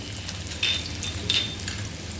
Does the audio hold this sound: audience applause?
no